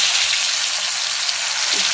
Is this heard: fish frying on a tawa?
yes